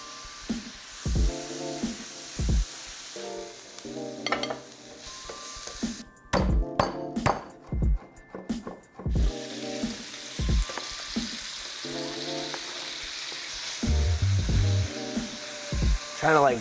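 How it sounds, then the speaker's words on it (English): Mushrooms sautéing in a pan for cheesesteak-style fried rice, with a steady close sizzle and frying hiss, stirring clatter and a few sharp spatula scrapes, while a person talks over it for much of the time. "The first thing we're gonna do is start sauteing the mushrooms."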